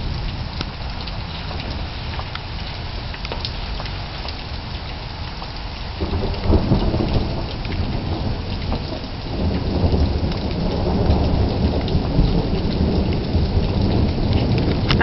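Heavy rain pours steadily throughout a thunderstorm, and about halfway through a deep rumble of thunder rises and rolls on beneath the downpour, with no voices.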